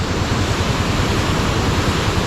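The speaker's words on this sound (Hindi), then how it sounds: "कितना ज़बरदस्त किस्म का पानी आ रहा है ग्लेशियर का पिघल के।" Glacial meltwater from Passu Glacier in Hunza roars in a steady, loud, unbroken rush, filling the scene with dense noise and no voices.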